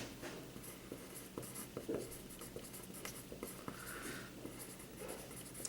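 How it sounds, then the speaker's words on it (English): A pen or pencil scratches steadily across paper, a quiet continuous scrawl of strokes and taps as a math definition of reference angles is written out in a low-level room. "So let's write down this definition."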